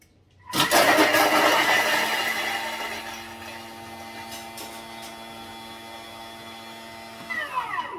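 A Thermomix blends lemon and egg shells at high speed, starting with a sharp loud whir that settles into a steady motor whine and hum for several seconds before slowing at the end.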